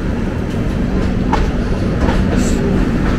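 A passenger train running at a station in Bengaluru, a steady loud rumble with rhythmic wheel clatter, close by and continuous, with faint voices underneath.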